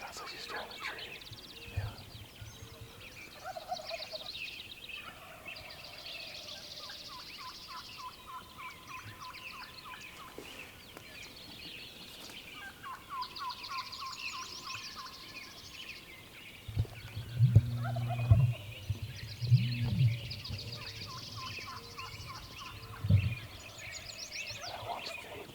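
Wild turkey in the western hunting woods gobbling several times, distant and faint at first, then a couple of louder, closer gobbles, while people whisper quietly nearby.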